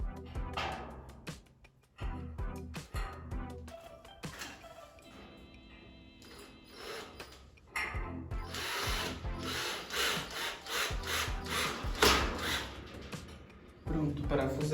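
A screw is driven into a size 6 wall plug during a kitchen renovation, giving bursts of whirring and grinding with gaps in between, close and moderately loud.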